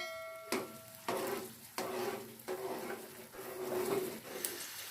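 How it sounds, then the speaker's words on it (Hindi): A spoon keeps stirring onions frying in a cup of oil in a kadhai over a high flame, giving a steady sizzle broken by several sharp scraping strokes spread through the clip. "हम लोग इसमें मुसलसल चमचा हिलाते रहेंगे।"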